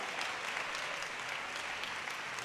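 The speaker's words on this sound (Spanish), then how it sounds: "Dale ese aplauso fuerte al Señor" A church congregation claps loudly for the Lord during a sermon, a dense, continuous wash of applause that stays steady throughout.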